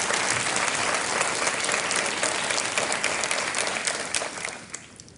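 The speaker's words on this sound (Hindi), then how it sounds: "तालियों के साथ अभिनंदन करते हैं।" A studio audience on the KBC quiz show breaks into steady, dense applause that fills the room evenly, then thins out and fades toward the end.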